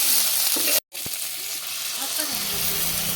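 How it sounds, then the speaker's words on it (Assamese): Magur catfish pieces fry with ginger, garlic, chillies and spice masala in a wok, a loud continuous sizzle with stirring scrapes broken by a brief gap of silence, and no voices. "মছলা সোমোৱাকৈ অলপ মাছখিনি ভাজি ল'ম"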